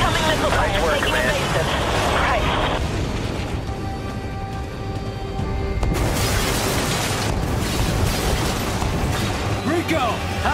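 Missile explosions in the video game Killzone 3 rumble as dense, continuous booms and blasts with mechanical noise, loud and close throughout, with voices talking over them.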